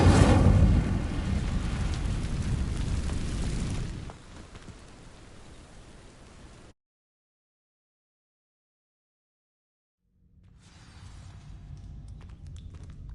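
A fiery Incendio spell in Hogwarts Legacy ignites dry vines with a loud, broad burst and crackling roar that tapers, falls silent, then a lower flickering burn returns.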